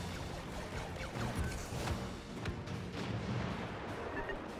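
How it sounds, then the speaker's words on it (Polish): Enemy blaster fire and heavy booms in Star Wars Battlefront on the Scarif map, dense continuous battle noise with repeated thuds and crackling shots at moderate distance, no talk. "Jakoś do mnie strzela, tam jakoś łupie do mnie"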